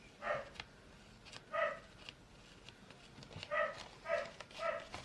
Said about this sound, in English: Excuse the dogs, it's getting to walkie time.